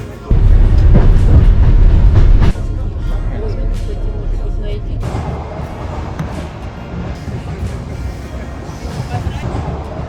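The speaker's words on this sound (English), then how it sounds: "We take the local train to the station" A local train rumbles along the rails of the Circum-Baikal Railway in Russia with a steady low roar and faint clicking, loud and close from inside the carriage, easing slightly partway through.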